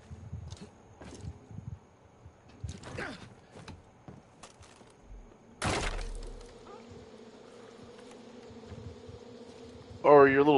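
Bees buzzing in the video game Far Cry 5: scattered clicks and a sharp impact give way to a steady, low droning buzz that lingers quietly, with a brief voice at the end.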